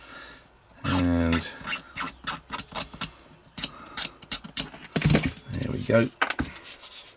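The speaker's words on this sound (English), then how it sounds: "Give it a little bit of a rub with a sanding stick." A sanding stick rubs back and forth over painted wood on a tea bar build, giving short rasping scrapes in bursts, close and fairly loud, with a brief spoken comment in between.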